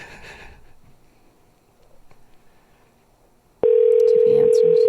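A loud, steady telephone dial tone starts abruptly near the end as a call is placed, following quiet room noise with faint sniffing.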